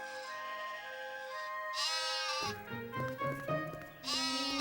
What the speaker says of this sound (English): Moses was looking after a flock of sheep up in the hills